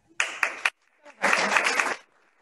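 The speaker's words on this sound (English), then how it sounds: "I hope you hear the applause and the claps." Hands clap at a school board meeting: a short burst of a few claps, a pause, then a longer, fuller patch of applause from a small group, moderately loud and fading out.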